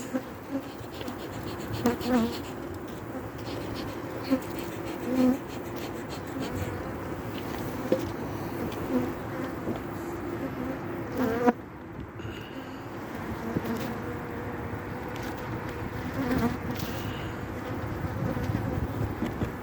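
Honeybees buzz steadily at an open hive during a winter inspection, a dense continuous drone with occasional sharper passes close by and a brief knock partway through, no talking.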